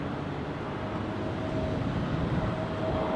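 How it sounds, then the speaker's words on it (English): A US Air Force Boeing C-17 Globemaster arriving at London Heathrow gives a steady, loud, broadband jet roar that holds even throughout, with no voices. "C-17. It's a Globemaster."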